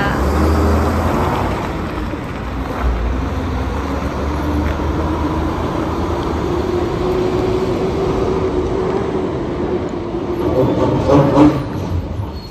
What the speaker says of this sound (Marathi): खूप आवाज येत होता या गाडीमधून.